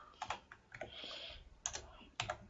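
Quiet computer keyboard typing in short bursts of key clicks, a few quick taps with pauses between them.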